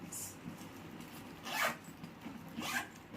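A zipper on a dark brown leather handbag is opened and closed, two short, rasping pulls about a second apart, close and fairly quiet.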